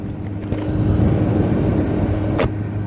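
A 2009 Kawasaki ZX10R motorcycle cruising in sixth gear at around 2000 RPM gives a low, steady engine rumble mixed with wind roar from the rider's position, with a brief gusty burst near the end.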